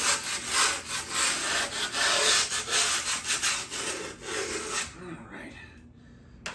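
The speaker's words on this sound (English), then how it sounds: "Sand this all down." Sandpaper scrubbing the grip tape on a skateboard deck, steady rasping back-and-forth strokes close by for several seconds, fading out near the end.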